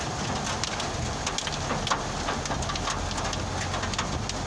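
Hail falling in Milan, a dense steady patter of hailstones striking surfaces outdoors with scattered sharper individual impacts standing out from the continuous roar.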